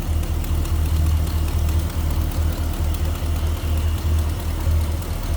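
Engine of a 1964 Ford Galaxie 500 XL fastback idling smoothly, a steady low throbbing rumble with an even rhythmic pulse, recorded close to the engine bay and running alone without talk.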